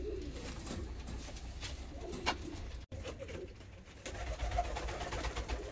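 Blue-headed, blue-tailed post pigeons coo softly and repeatedly, fairly close, over low background noise with no talking.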